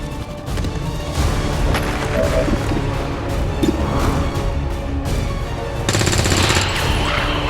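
Gunfire from the video game XCOM 2 comes as dense, rapid bursts of automatic shots with sharp cracks and crashing impacts, loud and continuous, growing harsher toward the end.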